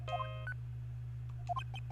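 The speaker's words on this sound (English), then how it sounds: "I don't like the sound of this ringtone right now. It sounds kind of ominous." An ominous ringtone in the Phoenix Wright: Justice For All video game: short bursts of melodic electronic beeps in quick tonal steps, repeating after a pause over a steady low hum.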